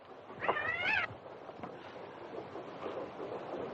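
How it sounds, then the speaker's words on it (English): A cat gives a single clear, drawn-out meow close by, followed by quiet ambient rustle and no talking. "That cat come all the way from Omaha."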